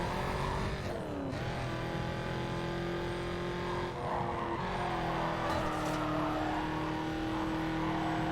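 A car in Need for Speed: Carbon surges on a nitrous boost, a loud, sustained engine roar with the pitch rising and dipping through gear shifts, alone and continuous.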